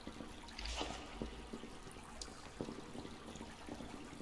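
A small river flows gently in the video game Subsistence, a soft, low continuous trickle and burble of water with a few faint splashes, heard alone.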